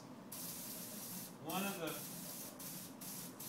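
Ash glaze sprayed onto pottery gives a steady broadband hiss with a stronger surge midway, close and continuous, while a person talks over it.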